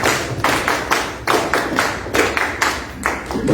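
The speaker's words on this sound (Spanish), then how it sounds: "fuertes palmas" Audience clapping strongly at a talk in the Casa del Pueblo de Miraflores, Peru: dense, close, continuous hand claps in uneven bursts.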